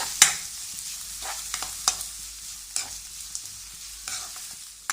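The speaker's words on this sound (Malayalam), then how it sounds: "എന്നിട്ട് സവാള നല്ലൊന്ന് ബ്രൗൺ കളർ ആവുന്നവരെ നമുക്ക് വഴറ്റിയെടുക്കാം." Onion sautés with green chili and ginger garlic paste for a dhaba-style egg masala, a soft sizzle broken by scattered scraping and clinking of a spoon stirring the pan, close and without speech.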